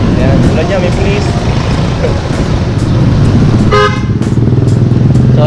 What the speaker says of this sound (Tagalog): Lakas ng busina niya, ang lakas ng pinalagay na busina